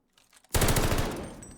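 Gunfire in a competitive team shooter esports match with the bomb planted, a sudden close burst of rapid automatic shots that rings out and decays over about a second, with no talk.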